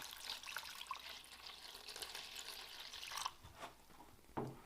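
Water pours steadily into an indoor plant container holding frosty ferns, a broad splashy trickle running for several seconds before breaking into a few shorter gurgles and splashes near the end.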